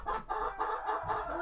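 Farm chickens clucking close by in short, repeated murmuring bursts, a few hens chattering together at a steady rhythm.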